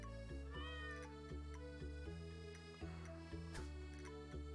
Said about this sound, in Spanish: Hemos adoptado un gato.